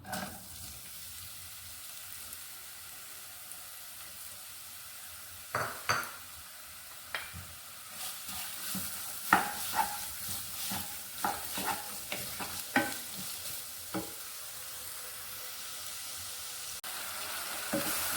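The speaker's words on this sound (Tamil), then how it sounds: "வெங்காயத்தை போட்டு நல்லா வதக்கிடலாம்" Onions sautéing in a pan for paneer butter masala, a soft steady sizzle broken by repeated scraping stirs that grow busier midway, close and clear with no talk.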